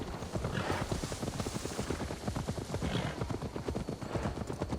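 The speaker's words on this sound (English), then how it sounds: "Now to deliver Magni his horse." Horse hooves clip-clop at a steady walking rhythm in Assassin's Creed Valhalla, close and continuous over a low ambient bed throughout.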